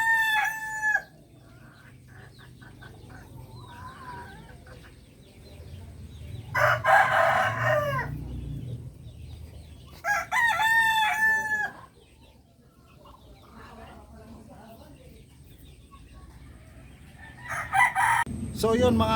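Free-range roosters crow loudly several times at intervals on a Philippine backyard farm, with hens clucking and farmyard noise in between; a few distant voices murmur faintly.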